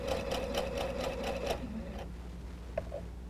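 A sewing machine stitches a quilt seam for a Double Wedding Ring quilt, running in a quick steady rhythm for about a second and a half before stopping, followed by faint handling taps; close and quiet.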